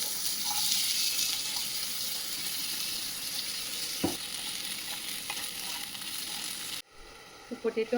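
Potatoes with salt and turmeric fry in a pan with a steady, close sizzle and light stirring for several seconds. The sizzle then cuts out abruptly and a few solid clunks follow.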